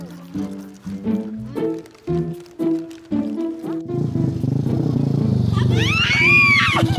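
A motorcycle engine rumbles loudly and rises and falls in a rev near the end, following several seconds of voices talking.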